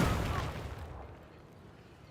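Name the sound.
naval barrage on land target in Civilization video game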